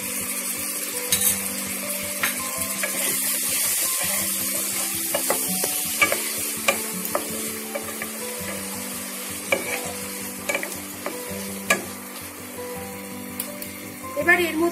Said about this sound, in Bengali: 3 টেবিল স্পুন মতো টক দইটা আমি এর সাথে মিশিয়ে